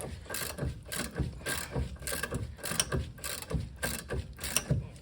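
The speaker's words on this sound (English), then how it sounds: "usually I just finish with my ratchet here" A manual ratchet tightening bolts on a 2007 Volvo XC70 strut, giving rapid repeated clicking bursts in a steady back-and-forth rhythm, close and fairly loud, with no talking.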